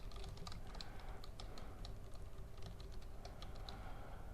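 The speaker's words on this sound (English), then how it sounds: "Click and start typing." Steady, brisk typing on a computer keyboard while text is entered in Photoshop, with close, rapid key clicks running continuously and no talk.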